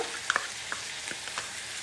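Garlic and onion frying in a pan for a bottle gourd and egg tamarind curry, giving a steady soft sizzle with a few light stirring clinks and scrapes, close and fairly quiet, with no voices.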